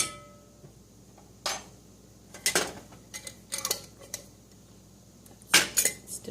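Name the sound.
stirring turmeric milk paste in a pot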